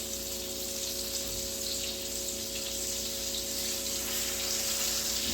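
Pork chops frying in a pan give a steady, dense sizzle that holds unbroken throughout, close and fairly loud, with a low underlying hum and no voices.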